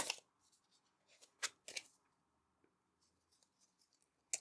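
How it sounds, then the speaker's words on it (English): A deck of tarot cards being shuffled on a desk, heard as quiet, close, irregular bursts of papery riffling and soft taps with pauses between them. "We're going to shuffle that again after that first card came out."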